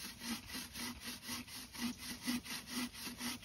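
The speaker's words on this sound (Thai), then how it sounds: "มาเลื่อยให้มันเป็นเรียบๆครับ" A hand saw cuts through wood in steady back-and-forth strokes, each pass a rasping rub, close by at moderate level with no voices.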